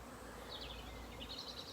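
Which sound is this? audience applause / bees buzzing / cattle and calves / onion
bees buzzing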